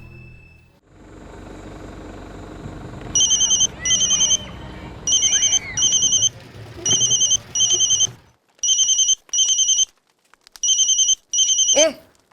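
A phone ringtone trills in repeated paired bursts of bright electronic beeps with short gaps, beginning after some low background noise and continuing to the end.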